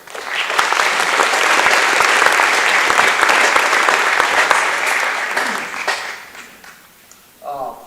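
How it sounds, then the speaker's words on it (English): Audience at a school athletic awards banquet giving a round of applause, dense sustained clapping for about six seconds before dying away, followed by a voice talking. "So just give a round of applause to those guys."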